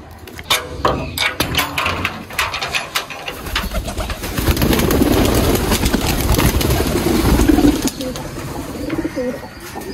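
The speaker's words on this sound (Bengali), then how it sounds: "এই মেল কবুতরটার" A male pigeon cooing close by, low throaty rolling calls that swell and fade over several seconds, with a low engine-like hum and other noise in the background.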